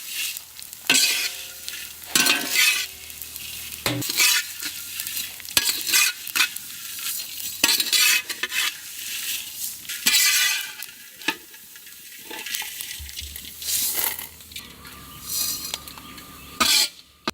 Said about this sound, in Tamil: சேமியா வறுக்கிறதுக்கு சுத்தமான நாட்டு பசு நெய்.